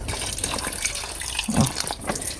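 Tap water runs into a cooking pot to cool freshly cooked food, a steady close splashing stream with a brief bubbling gurgle midway.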